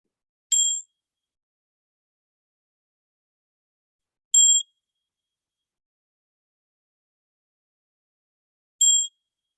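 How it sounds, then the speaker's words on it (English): Three gentle, clear bell strikes open a council meeting, each a bright ring spaced about four seconds apart in otherwise total quiet. "I'd like to open the council with this gentle sound of the bells."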